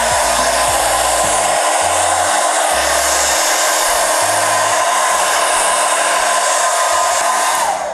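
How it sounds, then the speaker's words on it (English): Hair dryer blowing steadily at close range over glue under a synthetic lace frontal wig, a loud continuous whoosh with no talking. "we'll go in again with the blower just to blow it a little bit more"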